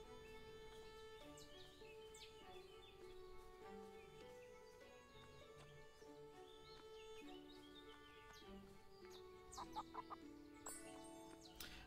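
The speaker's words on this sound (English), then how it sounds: "we are going to pet the chicken" A chicken in the farming game Everdream Valley on PlayStation 5 clucks in short, repeated bursts over soft, steady background game music.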